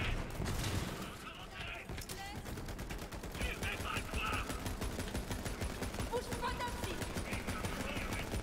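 Rapid bursts of automatic gunfire from the first-person shooter Borderlands 3, nearly continuous and loud, with French-speaking players chatting over the shooting.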